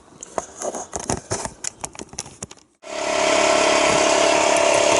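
A compressor for a smoke leak test on a Porsche Cayenne Turbo 955 kicks on after a few seconds of clattering handling noises, then drones loudly and steadily with a constant hum.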